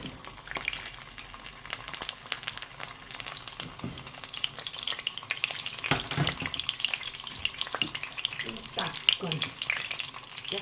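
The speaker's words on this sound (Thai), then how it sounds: "อันนี้อยากกินปลาทอด ทอดเหลืองๆ" Fish frying in hot oil and turning golden, a steady dense sizzle that runs throughout with occasional sharper crackles and pops, fairly close and with no voices.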